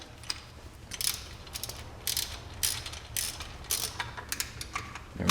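A frame slider bolt is threaded onto a 2010 Kawasaki Z1000 motorcycle with a ratchet, giving repeated bursts of crisp rapid clicking, close and moderately loud, with brief pauses between strokes.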